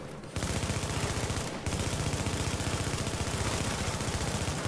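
Rapid, rattling automatic gunfire in a video game, steady and dense with one short break, loud and continuous throughout.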